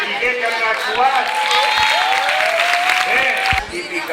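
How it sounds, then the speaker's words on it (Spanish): Applause from an audience for children who performed at a Falla Progrés-Teatre la Marina event, steady clapping and some cheering throughout, with voices and whistling-like tones over the crowd noise. "el aplaudiment tan fort que se mereixen els xiquets que han actuat"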